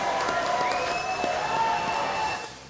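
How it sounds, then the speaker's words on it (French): Studio audience applause on a French TV comedy show, a dense, steady wash of clapping and crowd noise held for a couple of seconds before tapering off, with a faint tone running through it. "Applaudissements, même s'il n'est pas là, pour Frédéric Zermati."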